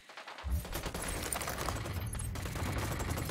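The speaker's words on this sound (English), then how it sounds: "I'm opening fire on these shitheads." Sustained automatic gunfire in the video game Ghost Recon Wildlands, a dense, continuous rattle of shots starting abruptly and holding loud throughout with no talk.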